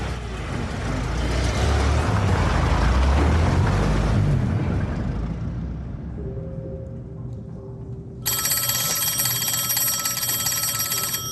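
An old telephone bell rings out in a 1920s Birmingham setting, its bright metallic trill bursting in abruptly near the end after a rumbling passing-vehicle noise fades, loud and sustained, with no speech.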